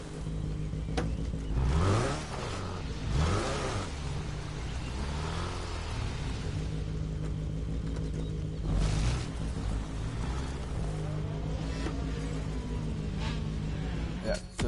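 A 2014 Volkswagen Golf GTI driven in a PS4 video game, its engine hum and revs rising and falling in several swells over a steady drone, with brief talk in places.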